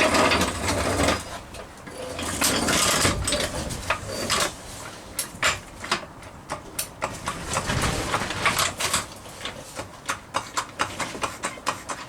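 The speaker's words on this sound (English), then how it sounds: "I'm going to jack it out a little bit." A car jack is pumped under the bottom arm of a Rover P6 V8, giving repeated ratcheting mechanical clicks and knocks in an uneven rhythm, nearby and without speech.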